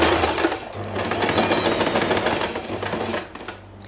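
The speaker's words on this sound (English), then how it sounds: "I will start sewing from the mark to leave the opening." A sewing machine stitches fabric for long hair bow tails, a fast, even mechanical chatter running steadily close up for several seconds before slowing and stopping near the end, with no talk.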